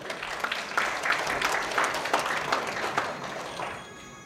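A conference audience at a climate change adaptation partnership meeting applauds, a moderate burst of mixed clapping that builds quickly, holds steady, then thins and fades near the end.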